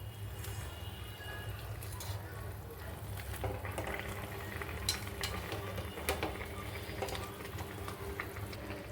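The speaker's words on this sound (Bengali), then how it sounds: "মাছগুলো এবারে ছাড়ছি।" Pabda fish fry in a pan of oil with a steady, moderately loud sizzle and occasional small clinks and stirring sounds close by.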